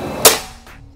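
A single sharp, loud shot from a Predator PCP air rifle cracks out, followed by a short fading tail of air and room reverb.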